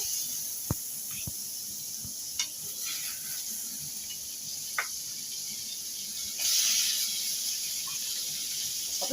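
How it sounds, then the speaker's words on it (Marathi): Butter sizzling in a preheated kadhai as paneer spring roll filling is started: a steady, soft high hiss throughout, with a few faint ticks and a brief swell near the end. "आणि बटर घालून घ्यावं याच्यामध्ये"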